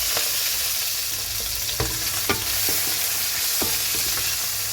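Chopped sambal ingredients fry in hot oil with a steady, loud sizzle, broken by a few sharp scrapes and clacks of a spatula stirring in the pan; no voices.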